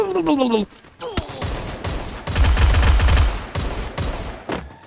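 Shotgun blasts from the Free Fire video game ring out in a rapid, loud burst of repeated shots with heavy low booms, close and dominant, while a voice talks briefly at the start.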